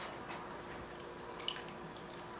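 Vegetable broth streams into a pot of lentils as a soft, continuous watery wash with a faint drip near the middle, quiet and close, without speech.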